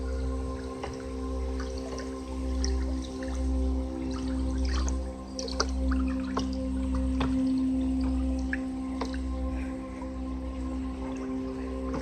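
Liquid waste decomposer solution being stirred in a large batch of around 200 litres, with soft sloshing and dripping water sounds over a steady low hum, fairly faint, with no talk.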